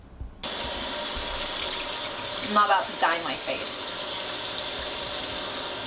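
Steady, fairly loud rush of water running into a bathroom sink while dyed hair is rinsed, continuous throughout, with someone speaking briefly over it partway through.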